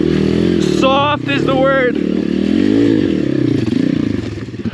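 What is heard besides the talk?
Chinese dirt bike riding hard enduro trail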